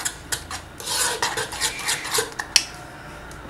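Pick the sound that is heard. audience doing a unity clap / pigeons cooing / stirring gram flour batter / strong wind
stirring gram flour batter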